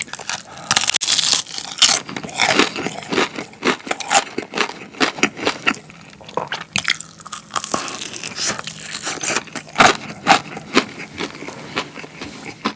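Loud, close crunching of crispy fried chicken being bitten and chewed, sharp irregular crackles coming in quick clusters with brief pauses.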